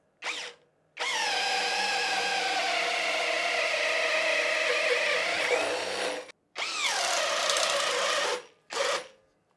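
A Parkside PSBSAP 20-Li C3 cordless drill bores into wood, whirring steadily and loudly up close for about five seconds, cutting out, then restarting in two shorter bursts.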